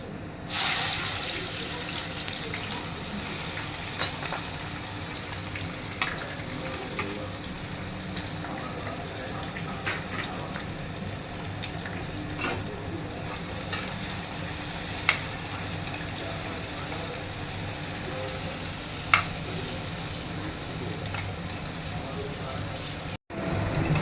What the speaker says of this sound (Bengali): এবার পেঁয়াজ দিয়ে দিচ্ছি।